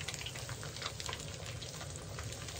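Crappie fish frying in hot grease in a disc blade outdoors, a low, steady bubbling crackle with small pops, faint and continuous.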